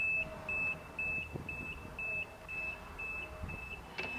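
Fenwick E25 electric forklift reversing, its backup alarm sounding a steady series of about eight evenly spaced high beeps over a low motor hum, fairly close.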